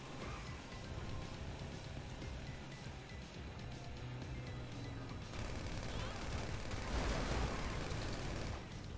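Gunfire in GTA Online, bullets striking a van in a rapid, dense patter of crackling shots and metallic impacts, fairly faint and steady, growing busier near the end.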